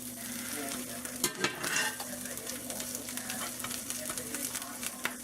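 A Reuben sandwich fries softly in a pan, a low steady sizzle with a few close clinks and scrapes from a utensil near the start.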